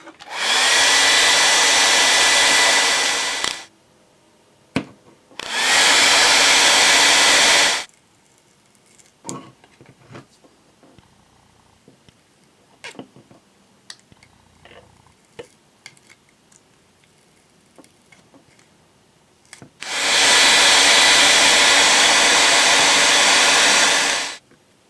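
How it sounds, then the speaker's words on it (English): A hair dryer roars loudly in three long blasts, each lasting a few seconds, separated by quieter stretches of small ticks and clicks, used to loosen parts on a toy robot. "I'm going to use the hair dryer method to get these off."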